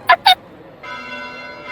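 Bells ring in the Fire Emblem Three Houses: Cindered Shadows video game: two sharp bright strikes in quick succession, then a sustained, humming ringing tone that lingers to the end.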